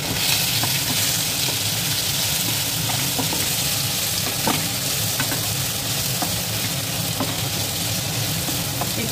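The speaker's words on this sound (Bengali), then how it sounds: "তেলের মধ্যে আমি হলুদ আর কাশ্মীরি লঙ্কাগুলো মাখানো সোয়াবিনগুলো হালকা করে ভেজে নিই।" Soybeans coated in turmeric and Kashmiri chilli sizzle in hot oil, a constant dense crackle with occasional louder pops, steady throughout and without talk.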